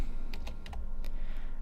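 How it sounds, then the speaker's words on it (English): Quick keystrokes on a computer keyboard while entering a username in a command for accessing processes on a remote machine, a short run of crisp clicks close to the mic over a low hum, no voices. "So let's type admin"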